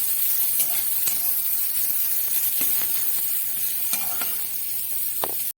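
Chopped onions fry in hot oil while being stirred, a steady close sizzle and hiss with scattered scraping taps of the spoon, ending abruptly.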